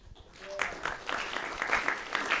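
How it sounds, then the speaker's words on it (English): Audience applause at a small atheist student group event, a room of people clapping steadily and fairly close for a couple of seconds with a bright crackle of many hands, no talk over it. "Give a round of applause for him."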